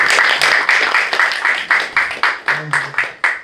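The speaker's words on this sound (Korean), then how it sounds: "우리 뜨겁게 박수 한번 다시 부탁드리겠습니다" A seminar-room audience at a Korean Christian forum claps in a steady, evenly spaced rhythm, sharp and close, about four claps per second for several seconds.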